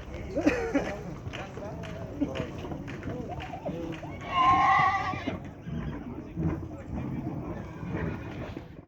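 A horse at a livestock market in Kyzylorda whinnies loudly for about a second in the middle, rising over steady crowd noise and people talking nearby.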